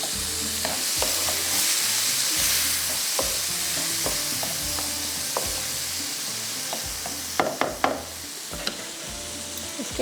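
Tomatoes and onions fry in butter with a loud, constant sizzle while a spoon stirs and knocks against the pan, adding a cluster of sharper clatters near the end.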